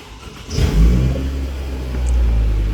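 A Toyota Camry engine started by push button turns over and catches, a brief starter whir followed by a steady low idle rumble that swells slightly, heard close from inside the car.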